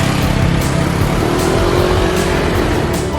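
A car engine runs steadily and close by as the car pulls away and drives, a continuous rumbling drone with no talking.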